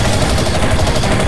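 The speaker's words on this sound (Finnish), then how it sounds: "Vähän ammuskellaan täällä näin" Rapid gunfire from The Chronicles of Riddick: Escape From Butcher Bay, set in a prison, blasts loud and close in a dense, continuous burst that fills the short moment.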